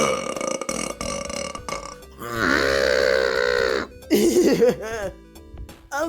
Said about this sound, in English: Yeah, enjoy those burps.